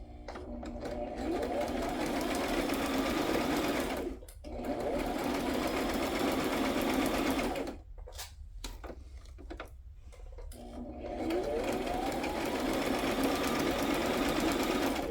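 A sewing machine joining fabric pieces, a loud steady rhythmic hum with ticking stitches, running in long stretches broken by brief pauses with soft handling sounds.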